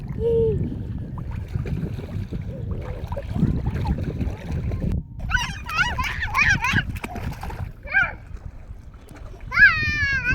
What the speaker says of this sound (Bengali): এত নাচানাচি করছে জলে, কত আনন্দ।